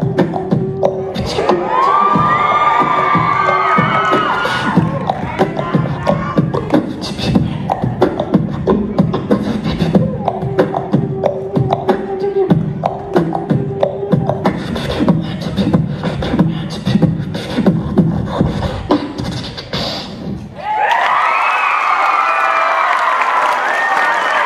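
An audience at a Filcan Idol talent show in Montreal cheers and applauds loudly and continuously, with shouts and whistles, before the roar cuts to a brief quieter moment and swells again.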